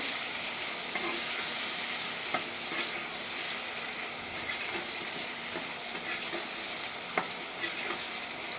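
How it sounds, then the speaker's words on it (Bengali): Eggplant frying for a pickle, a soft steady sizzling hiss with a few light stirring taps, fairly quiet and unbroken throughout. "এখন আমি এই দেখুন বেগুনটা দিয়ে দিচ্ছি।"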